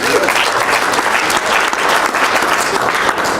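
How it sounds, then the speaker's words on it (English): A loud, dense round of applause fills the room during a live audience demonstration. The clapping is sustained and close throughout, with no pauses. "Give him a round of applause"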